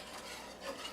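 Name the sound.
whisking marinara sauce in a pot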